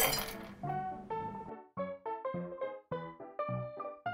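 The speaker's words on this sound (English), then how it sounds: "Add cubed or crushed ice to your Mr. Fitz Aqua Spritz glassware." Cubed or crushed ice drops into a spritz glass, an initial rattling tumble followed by a series of bright, clear clinks and taps as the pieces settle, close and fairly quiet.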